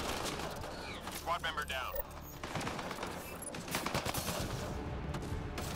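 Heavy gunfire in a Mass Effect Andromeda multiplayer match: dense, continuous bursts of rapid shots and impacts throughout, with a voice speaking over the shooting.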